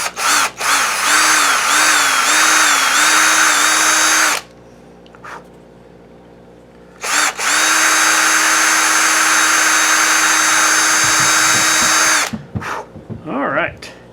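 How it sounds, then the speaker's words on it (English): A power drill bores holes through a metal dovetail saw part in two long loud whining bursts with a short pause between them, then a few brief clunks and handling noises at the end. "I'm gonna drill a bit through it and see where we get"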